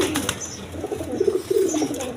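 Pigeons coo softly at a pigeon farm selling birds with eggs and chicks, low rolling calls repeating close by, with a few light flutters at the start.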